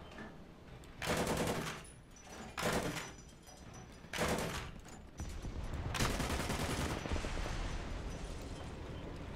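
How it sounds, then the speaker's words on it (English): Video-game gunfire aimed at a French biplane, heard as several loud bursts of rapid automatic shots separated by brief pauses, ending in a longer sustained burst over a steady low rumble of battle noise. "let's shoot down this biplane now"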